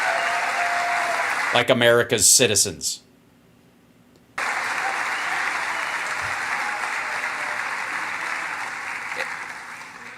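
A crowd at a political speech bursts into loud, sustained applause that rolls on steadily after a short spoken line and a brief silence, fading slightly toward the end.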